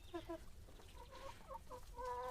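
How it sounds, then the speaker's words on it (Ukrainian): Young Brahma chickens clucking and peeping softly at close range, a few short calls in bursts over a low background rumble. "Це молодняк курей брама."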